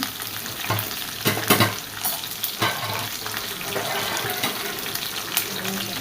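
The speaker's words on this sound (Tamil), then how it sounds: "இது குடமிளகா போடுறதுக்காக அப்படியே போட்டு வேக வைக்க வேண்டாம்னு கொஞ்சம் எண்ணெயில் இதை வதக்குறேன்" Capsicum frying in hot oil for a vegetable kurma in a home kitchen, a steady close sizzle with several sharp stir clatters from a utensil against the pan.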